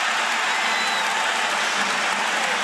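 A college basketball arena crowd roars and claps after a layup in a UCF versus Kansas game, a dense, continuous wall of cheering and applause that stays loud and even throughout.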